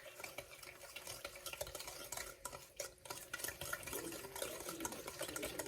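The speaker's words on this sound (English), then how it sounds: "I'm gonna stir this with the butter and it all like kind of melts together." White sugar stirred into melted butter in a bowl for cookie dough, giving a continuous close gritty scraping and swishing with small clinks, quiet and unbroken, no voices.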